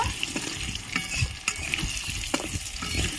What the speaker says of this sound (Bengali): আলুটা একটু লাল করে ভেজে নেব